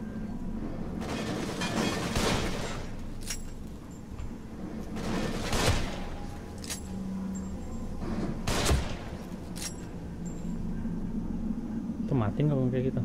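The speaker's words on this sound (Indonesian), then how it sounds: "Mati kayaknya, tembakan pakai sniper." Sniper rifle shots in The Evil Within, a survival horror game, crack out as about six sharp, loud blasts spaced a second or two apart over a steady rumbling game background.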